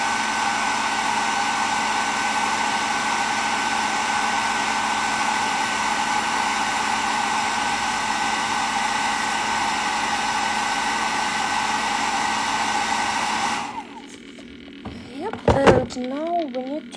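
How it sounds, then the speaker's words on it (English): A hair dryer drying a miniature ceramic pot blows with a steady, loud whooshing hum, then cuts off near the end, leaving a few brief knocks and faint sounds. "Let's use hairdryer again."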